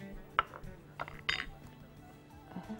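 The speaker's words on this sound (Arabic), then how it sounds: "هقلب كده المكونات دي مع بعض" A utensil stirs pizza batter ingredients in a bowl, giving a few sharp clinks and scrapes against the bowl, with a louder cluster near the middle and quiet stretches between, fairly close and with no talking.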